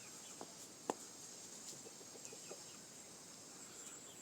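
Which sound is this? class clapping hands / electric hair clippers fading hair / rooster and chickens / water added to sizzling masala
rooster and chickens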